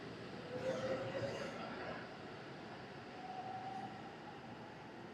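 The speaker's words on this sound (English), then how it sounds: "let's see the train off before we head down ourselves" A Japanese bullet train pulls out of Ureshino-Onsen station on a short Shinkansen line, giving a steady, fairly loud rolling rumble that swells early and then holds evenly as it departs, with no talk over it.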